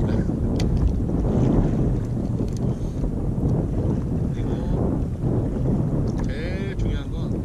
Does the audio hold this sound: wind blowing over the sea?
yes